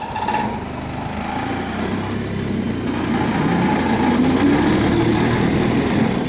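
A lawn tractor engine runs in snow with a steady, fairly loud buzzing drone whose pitch rises slightly as it revs, close up and without talk.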